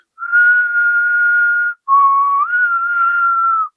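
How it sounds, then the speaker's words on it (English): A person whistles two sustained, pure notes, the first held steadily for about a second and a half, then after a brief gap a lower tone that slides upward and holds, loud and close with nothing else audible. "So instead of using the ney, I start to practice just whistle."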